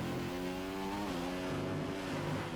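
Formula 1 car engine from the F1 2015 racing game revving hard on a flying lap, a loud steady high-pitched roar with shifting harmonic pitch throughout.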